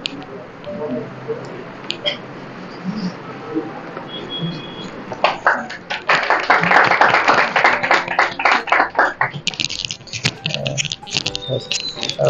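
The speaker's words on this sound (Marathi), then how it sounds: "सर्वांनी जोरदार टाळ्या वाजवायच्या." Audience at a knowledge quiz event clapping for the winners, starting after some quieter room noise and talk, then breaking into a dense burst of applause that fades into scattered claps.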